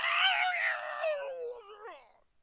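A voice imitates a horrible guttural screech, a strained rasping cry that starts loud, wavers, and trails off over about two seconds, close and alone.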